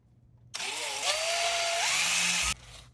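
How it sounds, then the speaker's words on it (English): A power drill with a 17/64-inch bit whirs into material for about two seconds, its whine rising slightly under load before stopping abruptly. "let's drill the holes for the switches"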